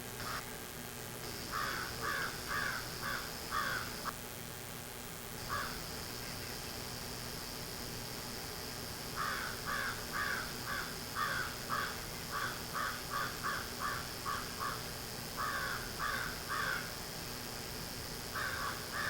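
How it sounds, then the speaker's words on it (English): Crows caw outdoors around a house in New Hampshire, with repeated bursts of harsh calls in several separate volleys over a steady background hiss and faint distant traffic hum. "Oh, there, you can hear the crows out there. Here, let's listen to the crows."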